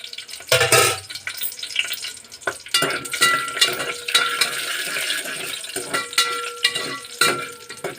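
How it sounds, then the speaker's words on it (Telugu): Cashew pieces with cloves, cardamom and cinnamon frying in hot oil, bursts of crackling sizzle and stirring clatter close up, rising and falling unevenly throughout without any talk. "వేగుతుండగా ఈ జీడిపప్పు పలుకులు కూడా వేసేసుకున్నాము"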